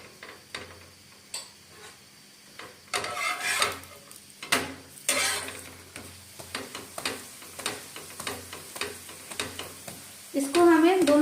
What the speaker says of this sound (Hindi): अब हम इसमें घी लगा रहे हैं। ये मैंने देसी घी लगाया है